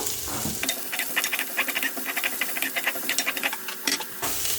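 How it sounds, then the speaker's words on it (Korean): Garlic sizzling in olive oil in a pan for celery macaroni, a soft crackling patter with quick pops and bubbly hiss throughout, fairly quiet and with no talking. "올리브 오일을 좀 넣어주시고 마늘 향을 좀 먼저 내주세요."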